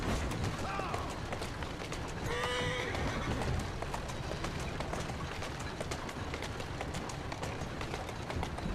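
In Assassin's Creed Syndicate, a horse gives a short whinny near the start while its hooves keep up a steady, rapid galloping clip-clop for the whole stretch, moderately loud against a busy background.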